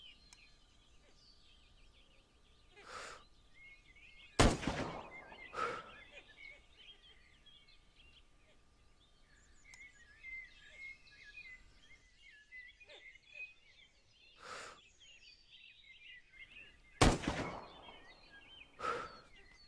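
Two sharp, loud sniper rifle shots in the open-world survival game SCUM, each a sudden broadband crack with a decaying tail, separated by quieter ambience with birdsong and lighter distant reports.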